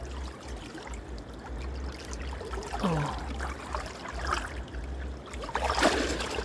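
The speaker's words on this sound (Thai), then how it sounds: "น้ำไหลพี่น้อง" Water flows and trickles around an island in Savannakhet, Laos, a steady near wash with splashy surges over a low outdoor rumble, and no one speaking over it.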